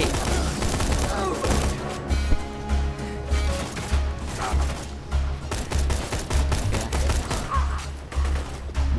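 Rapid gunfire from the video game Borderlands 2 in dense, loud bursts that run almost without a break over a steady low thump, with a voice faintly underneath.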